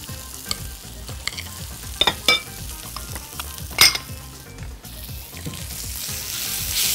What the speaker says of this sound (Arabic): البصل بتاعي ابتدى يدبل وخد لون